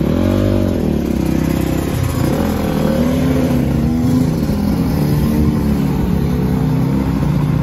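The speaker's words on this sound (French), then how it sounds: "on prend le casque par Pierre, la moto. Et puis c'est parti" Motorcycle at an indoor motocross show ridden off, its engine revving and droning loudly and steadily throughout, with no talk over it.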